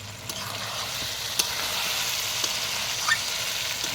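Potatoes stirred into braised meat in a pan give a steady close sizzle with a few scraping clicks of the stirring utensil. No one talks.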